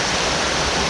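A rain-swollen mountain stream rushes fast and hard in a loud, unbroken roar heard up close, with no voices.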